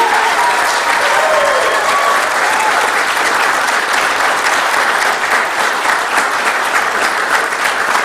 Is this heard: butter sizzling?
no